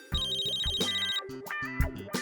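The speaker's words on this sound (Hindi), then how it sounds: "फोन।" A telephone rings with a bright, repeating electronic bell pattern, loud and close, in short rhythmic bursts with a brief pause between phrases, with no talk over it.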